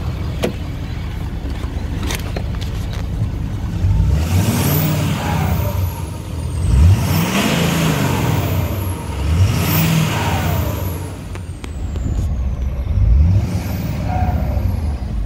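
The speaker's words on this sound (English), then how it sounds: "Give it a quick little rev." A 2011 Ford F250 pickup with 62k miles revs up sharply about four times over a steady idle, each quick blip rising and falling back, heard close with no talking.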